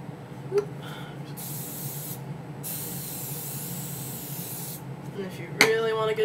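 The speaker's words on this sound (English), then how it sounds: "just spray them really good and hold them" A hairspray can sprays in a long continuous hiss, close up, onto a mohawk, with a brief spray before it and a voice starting up afterward.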